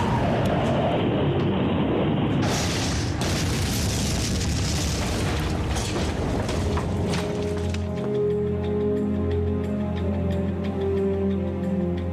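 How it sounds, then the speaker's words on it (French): A V2 missile explodes with a loud, deep boom that rolls into a sustained rumble and crackling debris, fading into a lower droning tail. "les ennemis d'Hitler subissent les foudres de son arme ultime, le missile V2"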